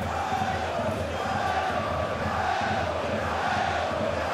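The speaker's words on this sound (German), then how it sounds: "Eiergoli skandieren die Rieder Fans" SV Ried fans chanting in a sold-out football stadium, a dense, continuous crowd roar with rhythmic chanting that fills the whole stretch at high volume.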